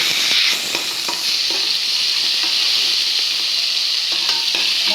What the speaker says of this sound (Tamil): வெங்காயம் கொஞ்சம் பெருங்காயில் பொன்னிறமாக ஆகணும்